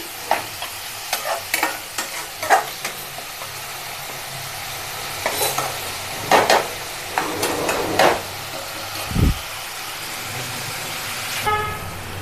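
Onions fry in oil in a pan for an Andhra-style fish curry, with a soft sizzle broken by a series of sharp scraping stirs and a low thump near the end.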